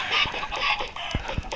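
Chickens cluck in the blocky sandbox game Minecraft, with a handful of short, sharp clucks in quick irregular succession over a bright background hum, close and moderately loud.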